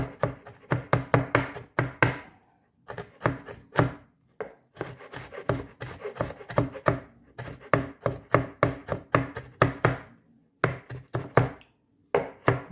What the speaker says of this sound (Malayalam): നമ്മുടെ ഇഞ്ചി അരിഞ്ഞെടുത്തു പച്ചമുളക് അരിഞ്ഞു